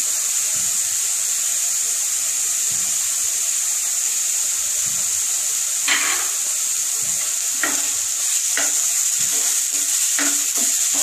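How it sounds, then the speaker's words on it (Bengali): Grated coconut sizzles steadily in a hot pan for a Bengali non-veg lunch, a constant bright frying hiss with a few sharp scrapes of a spatula stirring near the end, no voices. "একটু নারকল কোড়া দিলাম"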